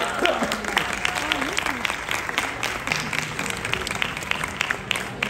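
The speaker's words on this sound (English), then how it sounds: "you can give them a big round of applause as well" Warm applause from parents at a school graduation celebration for a young class, continuous crowd clapping with overlapping voices and cheering chatter throughout.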